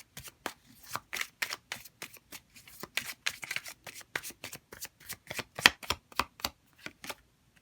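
A deck of tarot cards shuffled by hand at close range, a rapid series of crisp riffling bursts and flutters repeating in quick, uneven rhythm, with no talking.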